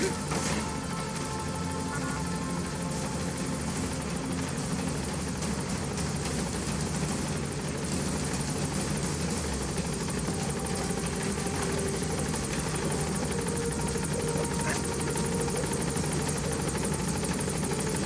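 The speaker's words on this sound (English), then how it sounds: "Support helicopter has arrived." A support helicopter in Metal Gear Solid V: The Phantom Pain roars steadily and loudly the whole time, its rotor and engine drone dense and unbroken with no talk over it.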